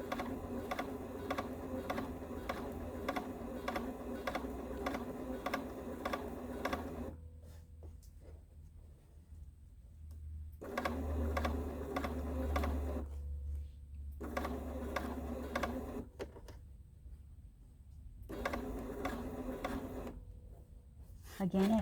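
A sewing machine stitches fabric for a tulip quilt project, its fast mechanical whirring running in long stretches broken by pauses while a voice talks over it.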